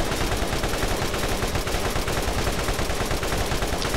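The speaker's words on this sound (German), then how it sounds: "Ich schieß einfach mit allem, was ich drauf habe." Sustained, loud automatic gunfire in Borderlands, a dense continuous rattle of rapid shots that fills the whole stretch without pause.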